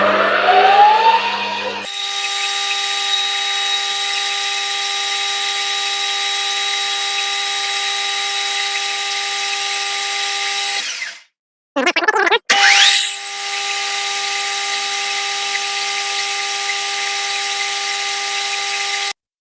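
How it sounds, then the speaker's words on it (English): Milling machine drilling three small holes in a metal piece, a loud steady whine that runs for several seconds, briefly stops and restarts, then continues at the same pitch. "this piece needs to go into the mill and have 3 little holes drilled in it."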